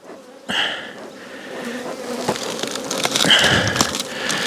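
Bees buzz densely around a nearly full barrel as the colony is rehomed to a hive, a loud continuous drone close by with individual insects whining past, no talk.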